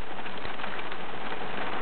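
Steady rain falling outdoors, a soft continuous patter and hiss with scattered drops, moderately quiet and without speech.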